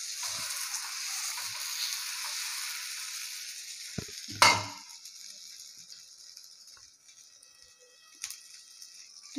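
Batter made from karachal flour spreads onto a hot griddle for dosa, with a steady hissing sizzle in the opening seconds, a sharp scrape or clatter midway, then a fainter, quieter sizzle continuing close by.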